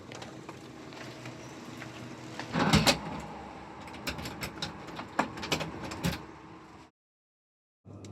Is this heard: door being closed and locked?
yes